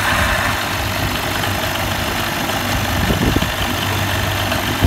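An outboard boat engine runs at idle after a blown-out spark plug was rethreaded, giving a loud, steady, close-up drone with a low hum and faint rattling vibration, with no voices.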